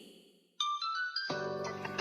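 A phone ringtone starts abruptly after a quiet half-second, a bright electronic melody that grows fuller and louder as a richer chord layer joins, ringing on steadily as an incoming call.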